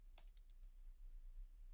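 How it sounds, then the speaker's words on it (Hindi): Computer keyboard keys tapped while typing on a PC, a short burst of a few soft clicks early on, then quiet room hiss with no speech. "नोटपैड ओपन करने के लिए कीबोर्ड से प्रेस करेंगे विंडो और टाइप करेंगे नोटपैड"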